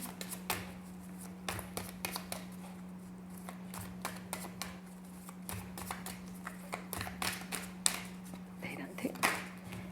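Tarot cards being drawn and shuffled, heard as quick close riffles, flicks and taps in irregular bursts over a steady low hum, with a person talking alongside.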